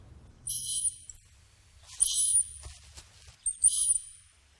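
Three short bursts of very high-pitched squeaking chirps played to test a cat's hearing, separated by brief pauses, thin and piercing over a faint low rumble.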